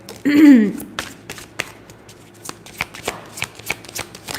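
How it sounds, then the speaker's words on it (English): Tarot cards shuffled by hand in a quick riffle burst near the start, followed by a run of soft irregular taps and flicks as the deck is handled, close and fairly quiet with no talking. "I just shuffled it and I got the baby trap again."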